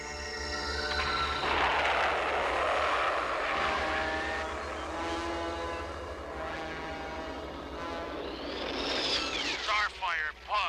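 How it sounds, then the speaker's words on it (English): A sci-fi spaceship pod lifting off from an asteroid: a loud, sustained engine roar with tonal layers, swelling into rising and sweeping whines near the end, while voices talk over it. "Starfire pod taking off from asteroid"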